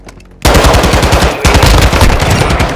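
Loud, close rapid automatic gunfire in Call of Duty: Modern Warfare 2 Team Deathmatch, a sustained machine-gun burst after a quiet start, with a second burst following almost immediately.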